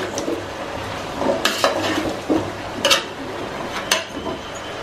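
Vegetables with turmeric being stirred in oil in a pot: a soft background sizzle punctuated by several sharp scrapes and clinks of a spoon against the metal, spaced irregularly, with no talking.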